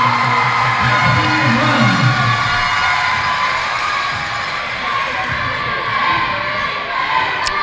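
Sustained loud crowd cheering and shouting at a women's college basketball championship game, a dense roar holding steady throughout with some squeaks and ball bounces beneath.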